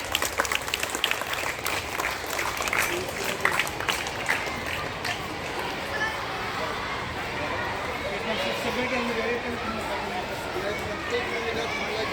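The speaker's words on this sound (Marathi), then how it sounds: "टाळ्या वाजवा सर्वांनी" At a school event for Revolution Day and a tree-rakhi ceremony, a crowd of students and guests claps in a sustained burst of applause, dense at first then thinning into crowd babble and shuffling, with voices mixed throughout.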